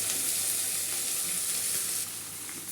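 Rice sizzles and fries hard in a hot pan for mango rice, a loud, bright, continuous crackling hiss with faint stirring scrapes underneath, no voices over it.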